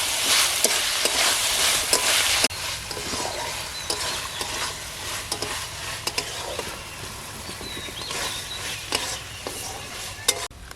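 Vegetable stems frying in a pan with coconut while being stirred, a loud continuous sizzle broken by repeated scraping strokes of a spatula, close up and with no voices.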